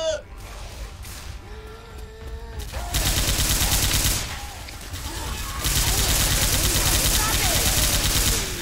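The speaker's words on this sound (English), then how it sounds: "You're shooting me again." Gunfire in the video game Left 4 Dead 2, dense bursts of automatic shots growing louder and more continuous partway through, with players talking over the shooting.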